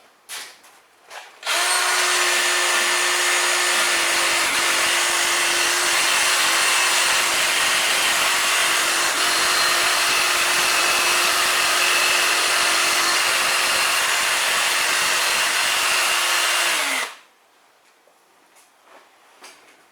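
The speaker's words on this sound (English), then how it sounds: "So I'm going to clean this up, clean up the axle shaft so that it engages with the hub cleanly and doesn't stick" A power tool whirs loudly and continuously for about fifteen seconds while cleaning rust and debris off the rear axle shaft of a 2004 Toyota Highlander during a wheel bearing job, then spins down to quiet.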